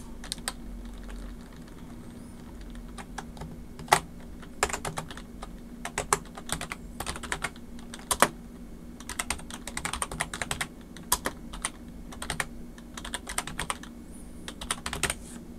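Keys on a computer keyboard clatter close by as a first and last name is typed into a form, irregular bursts of crisp taps with short pauses in a quiet room.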